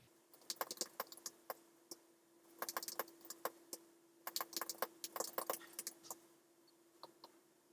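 Computer keyboard keys being tapped to type a question, irregular bursts of light clicks with short gaps, fairly faint and close, with no voices.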